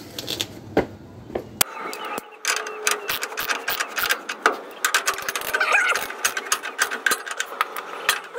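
A ratchet being worked on the lower control arm bushing bolts of a 1971 GMC truck, rapid close clicking and clattering bursts in quick succession over a garage background, no talking.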